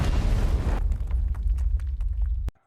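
A bridge blown up by explosives, a loud deep blast followed by a roaring rumble that thins into scattered debris crackles and pops before ending in one sharp final burst.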